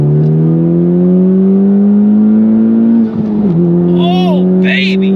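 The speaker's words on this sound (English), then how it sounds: "I'm gonna try a third gear pull." A Honda Civic Type R with a stage 3 flex fuel tune accelerates hard in third gear, its engine note rising steadily and loud from inside the cabin, with a brief dip at a shift and voices exclaiming toward the end.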